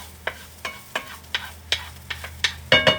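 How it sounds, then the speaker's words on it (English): Onions being stir-fried in a hot pan before rice is added for fried rice: about nine rhythmic, evenly spaced scraping strokes of a spatula over a low sizzle, close, with a heavier scrape at the end. "push my onions, add in my rice"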